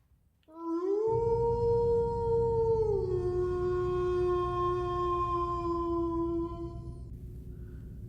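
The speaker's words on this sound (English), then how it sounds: "Henry awoke to a long, distant howl." A single dog howls in one long, sustained, wavering note that drifts slightly in pitch, heard alone against faint background hum and fading out at the end.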